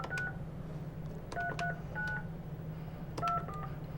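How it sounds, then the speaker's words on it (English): Telephone keypad dialing tones, several short beeps in separate bursts with pauses between, fairly faint over a low steady background hum. "we're going to see if we can get Coach Moss on the phone"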